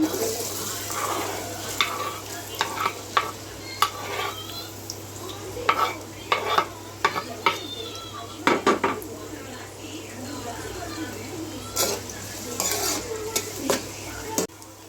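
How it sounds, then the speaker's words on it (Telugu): Cut green chillies fry in oil in a pan for fish curry while a spoon stirs them, a steady sizzle broken by frequent sharp metal scrapes and clinks against the pan. "పచ్చిమిరకాయలు అయితే కట్ చేసుకొని వేసుకుంటున్నాను"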